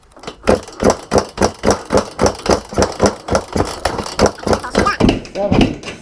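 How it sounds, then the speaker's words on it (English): A vintage ATK motorcycle kicked through at wide open throttle during a compression test, giving a steady series of loud, close, rhythmic chuffing engine strokes roughly every third of a second, with a voice speaking over them. "I'll do the kick-throughs with wide open throttle"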